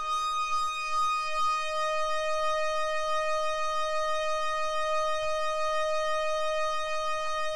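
Synthesizer patch from an O2 library holding a single sustained note built on a very long sample loop, a steady pure multi-harmonic tone that stays constant and moderately loud throughout, with faint background rustles and no speech.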